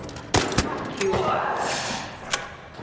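Gunshots in the video game ARC Raiders: a couple of loud, sharp close reports in quick succession, then a rumbling tail and one more fainter shot, with no talk.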